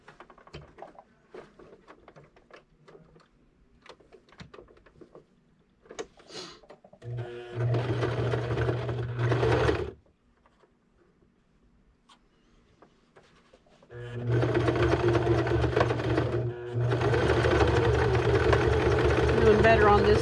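Home sewing machine stitching elastic onto sleeves, running in two sustained loud bursts of steady motor whir with pauses between, a quieter stretch of handling and a short start before them, with a voice speaking at times.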